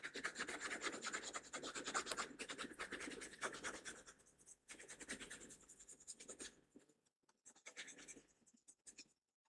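An eraser or hand rubs back and forth across a sheet of paper during a math lesson, in close, dry, scratchy strokes that come in bursts with short pauses and no talking.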